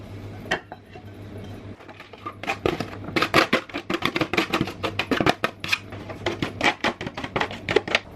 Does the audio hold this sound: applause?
no